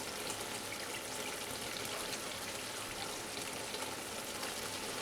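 Grated coconut frying in oil in a pan for a ridged gourd dish, a steady, dense sizzle with fine crackle throughout, close and even in level, no voices.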